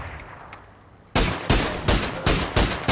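Gunfire in the battle royale game PUBG: after a quiet second, five loud, evenly spaced shots crack out close by in a steady rhythm.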